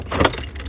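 Keys jangle briefly inside a van, a short metallic rattle lasting under a second, fairly close and loud with no speech over it.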